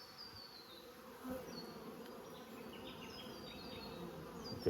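Honey bees buzzing around an open nucleus hive being transferred into a larger box outdoors, a dense, steady, close drone with individual bees whining past.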